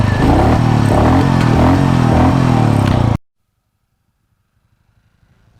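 A Royal Enfield Meteor motorcycle's exhaust rumbles loud and close with rising and falling revs for about three seconds, then cuts abruptly to near silence before a brief burst at the end.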